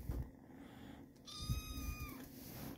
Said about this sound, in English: You gonna meow again?